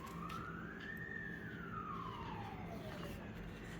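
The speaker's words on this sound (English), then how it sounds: "I just heard some sirens go by." An emergency vehicle siren passing in the distance, one long wail rising and then falling in pitch, faint over a steady background hum.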